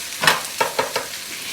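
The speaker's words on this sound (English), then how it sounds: "we're just gonna continue stir frying a bit more" Vegetables stir-frying in a pan during a kids' cooking session, with a few distinct sizzling bursts and scraping stirs in quick succession, close and fairly loud.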